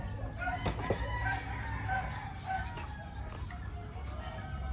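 Roosters and chickens in a Filipino poultry farm crow and cluck in overlapping calls, several birds close by over a steady low background hum.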